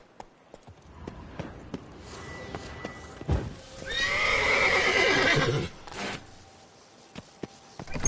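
Roach, Geralt's horse in The Witcher 3 video game, lets out one long, loud whinny in the middle, framed by scattered hoof clops and thuds, close by with no talk.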